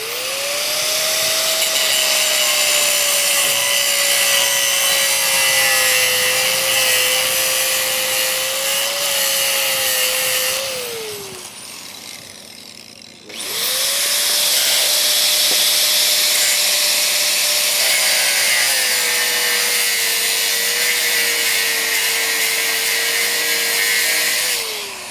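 Power tool whining steadily as it cuts through the metal housing of a meat grinder during a rescue, loud and continuous for about ten seconds, pausing briefly, then resuming at full strength.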